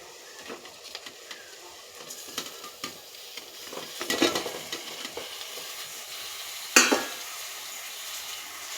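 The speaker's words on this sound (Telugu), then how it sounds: "ఇందులో శుభ్రం చేసి పక్కన పెట్టుకున్న చేప ముక్కలు వేస్తున్నాను" Fish pieces dropped into hot oil in a pan for a Telugu pumpkin-fish curry, a steady sizzle broken by scattered scrapes and stirring clatter, with a louder burst of frying and a sharp clink near the end.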